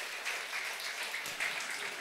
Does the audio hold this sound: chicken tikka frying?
no